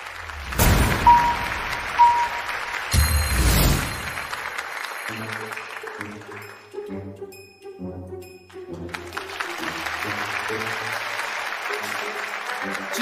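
An audience on the comedy show Happy Comedian welcomes comedian Sun Tao with loud, sustained applause near and full, followed by brief musical stings and a cheering crowd continuing under a band fanfare.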